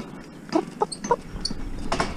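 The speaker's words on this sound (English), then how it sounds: "chicken noises" Hens cluck in a few short bursts at moderate distance on a farm where carriage driving training takes place, the calls spaced irregularly with no talking.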